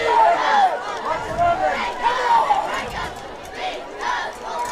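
A large crowd at a high school football playoff game roars and cheers in waves, with shouts and whistles rising and falling, and a commentator's voice talking over it.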